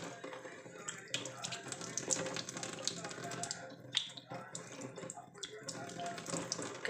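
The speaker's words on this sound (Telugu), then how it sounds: "నీట్గా మొత్తం వాటర్తో తడుపుకొని చేతితోటి ఇలా వాష్ చేసేసుకోవాలి" Cool water splashes continuously as a face is washed by hand, a soft, close, running and splattering sound with small irregular splashes throughout.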